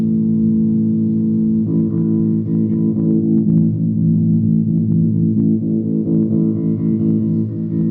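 An electric guitar played through an effects pedal, sustained and distorted with a pronounced midrange, ringing steadily for several seconds.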